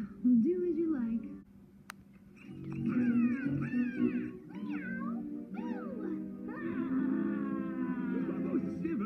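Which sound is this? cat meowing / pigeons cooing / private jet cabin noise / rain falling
cat meowing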